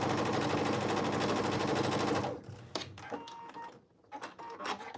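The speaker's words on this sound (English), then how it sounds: "I'm going to go back to top stitching the slanted edge of the pocket." A sewing machine top stitches the slanted edge of a cargo pants pocket, running in a steady, rapid, loud whir for about two seconds before stopping, followed by quieter scattered handling clicks and fabric sounds.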